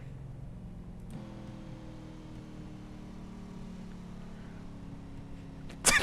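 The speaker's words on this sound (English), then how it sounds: "listen to the calm sounds of these cars pacing around" Stock race cars circle the track under caution during a 200-lap Premier Series race, a steady low engine drone from a distance with a tone shift early on and a sharp, louder burst right at the end.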